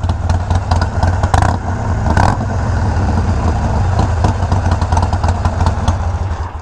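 A Harley-Davidson Iron 1200 fitted with Vance and Hines slip-on exhausts idles close by with a deep, loping, uneven throb and clattery pulses, loud and steady throughout.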